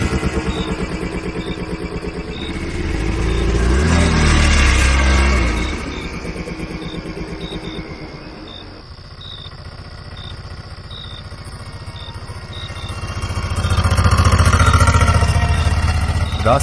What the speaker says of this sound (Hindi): ऑटो में बैठते ही राजू भाई ने चुपचाप इंजन स्टार्ट किया